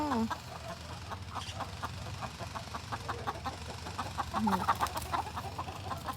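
Backyard chickens arriving at feeding time cluck repeatedly in short, rhythmic bursts close by, with a brief louder squawk near the end.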